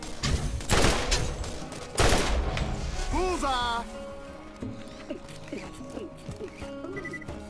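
Rapid gunfire bursts from the Borderlands shooter game crackle loudly in the first couple of seconds, then fade under game music and effects while someone narrates over them.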